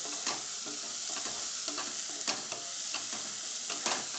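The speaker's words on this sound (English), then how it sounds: "so I am going to stir it for say another minute or so" Close, steady stirring of onion tomato gravy for rajma in a pan over medium heat, with repeated soft scraping strokes over a continuous sizzle and no speech.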